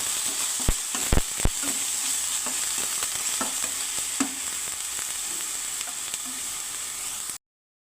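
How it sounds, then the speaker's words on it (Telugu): Onions fry in oil with ginger garlic paste for a chicken fry, producing a constant close sizzle with sharp ladle clacks and scrapes early on as the mixture is stirred. "ఆనియన్స్ ఇలా మగ్గిన తర్వాత కాస్తంత అల్లం వెల్లుల్లి పేస్ట్ని వేసుకొని తిప్పుకోవాలండి."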